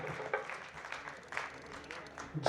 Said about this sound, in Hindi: जोरदार जोरदार जोरदार तालियां के साथ।